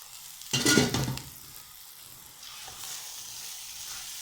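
Carrot halwa with khoya stirred and fried in a pan, a loud burst of sizzling and scraping followed by a softer, steady sizzle with no talk.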